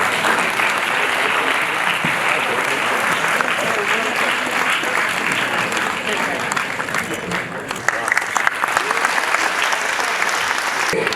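Steady, dense applause from an audience at a police-hosted anti-drug awareness event in Surat district, Gujarat, sustained throughout with crowd noise and some voices mixed in.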